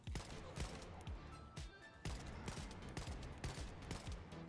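Rapid bursts of assault rifle fire in the shooter game The First Descendant, steady repeated shots with punchy low thumps running continuously and fairly loud.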